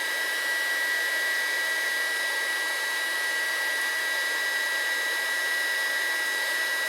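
A Haisstronica heat gun blows hot air in a steady, unbroken hiss and whir that stays even and close from start to finish, with no talking.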